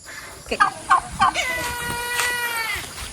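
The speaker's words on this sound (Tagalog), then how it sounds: "may ibon dito mga idol, oh." A bird gives a few quick, sharp gobbling calls in a rhythmic burst, then a longer harsh call, heard up close over light background noise.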